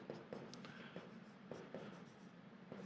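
Chalk or marker writing on a board during a lecture on muscle growth, heard as faint, close, scratchy strokes and short taps in an uneven rhythm over a quiet room, with no talk.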